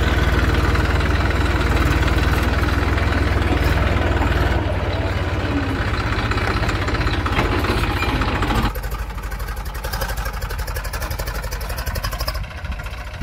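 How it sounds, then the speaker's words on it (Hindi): Tractor engine chugging in a farm field while hauling manure, a loud steady idle close by that drops to a lower, slightly rougher running note partway through. "ट्रैक्टर आ चुका है खाद लेके।"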